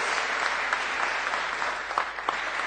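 An audience applauds at a Golden Shoe award ceremony for a footballer, with dense, continuous clapping at a steady level and a few sharper claps standing out near the end.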